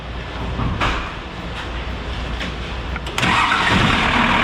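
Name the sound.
Ford F100 engine cranking and starting with upgraded starter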